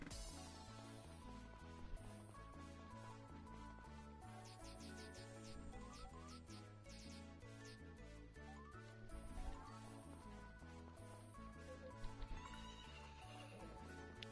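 A horse in the video game Story of Seasons: Friends of Mineral Town gives repeated whinnies and neighs over game music, with soft clip-clop steps, quiet and without talk.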